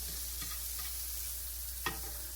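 Alligator fillets stirred in a frying pan, a soft steady sizzle with a few faint scrapes and one sharper clack of the utensil against the pan.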